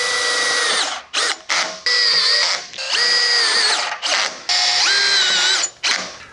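A power drill drives screws into the outside of a lifestyle screen frame, with several loud whirring bursts that rise and bog down, separated by short pauses and ratcheting stops.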